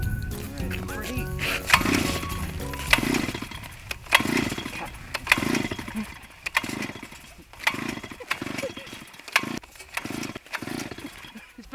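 Gas-powered ice auger engine being yanked to a start on a frozen lake, giving rough, rhythmic sputtering bursts about once a second that catch and run unevenly, with a person talking over it.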